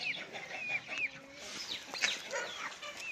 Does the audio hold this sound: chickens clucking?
yes